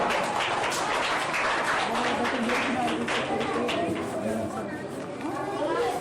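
Children at a school admission ceremony clap together, a busy mix of applause mingled with chatter and voices, moderately loud and continuous.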